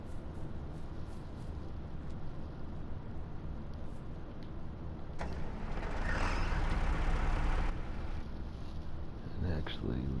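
Engine of a vehicle in Farming Simulator 22 running as a steady low rumble that swells louder midway and then settles, with some speech-like sound around it.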